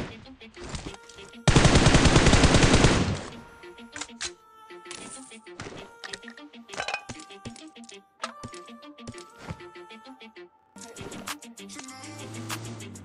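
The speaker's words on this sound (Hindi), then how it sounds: "सामने मुझे एक बोट दिखता है जिसको मैं फायरिंग देता हूँ लेकिन वो कवर में चला जाता है" Automatic gunfire in PUBG while shooting at a bot, a loud sustained burst early on followed by scattered clicky shots and game effects, with speech running throughout.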